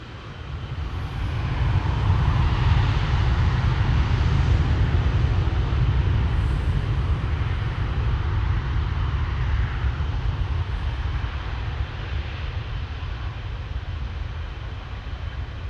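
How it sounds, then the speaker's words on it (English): A Cathay Pacific Airbus A350-1000 airliner departs Amsterdam Schiphol, its engines building to a loud, deep rumbling roar that swells early and then holds steady, slowly easing with distance. "here we have Cathay Pacific flight 270 to Hong Kong"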